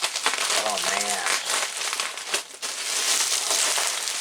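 Plastic packaging crinkles and rustles continuously up close as an Atari 1040ST computer is unwrapped, with a brief voice murmur early on.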